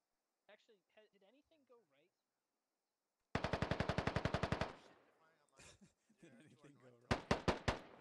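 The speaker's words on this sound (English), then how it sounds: "those AK rounds just sound so beefy" Automatic AK rifle fire in a military tactical video game comes in one long rapid burst and then a shorter burst, each loud and close, with someone talking softly before the shooting.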